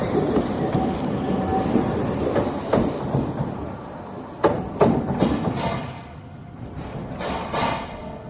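A train rushing past right alongside a handheld recorder, a loud continuous rumble with rhythmic clickety-clack of wheels over rail joints and occasional sharp clanks, alone without any voices.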